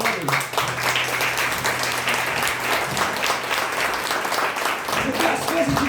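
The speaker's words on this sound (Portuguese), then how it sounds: "Pode aplaudir, aplaudir." A church congregation claps together during a Portuguese-language sermon, producing a loud, continuous wash of applause with a faint low hum beneath and scattered voices mixed in.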